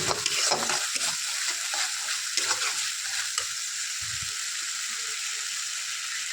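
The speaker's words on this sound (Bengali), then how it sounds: "দই দিলেও এরকম ভালো করে ফাটতে হবে।" Spice paste and yogurt fry in a pan for Bengali doi katla fish curry, a constant bright sizzle with repeated stirring scrapes that ease off toward the end.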